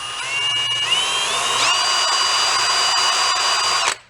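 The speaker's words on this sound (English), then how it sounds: "I have a brass wire wheel drill." A brass wire wheel spinning in a power drill buffs corrosion off a needle on a busted Chinese pit bike carburetor, making a loud continuous whirring grind with slight pitch rises before cutting off abruptly.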